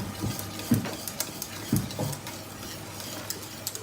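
Whiskey is stirred into a golden eggnog mixture with a whisk, producing steady close scraping and soft rhythmic clinks against the bowl, with a few sharper taps standing out from the continuous swishing.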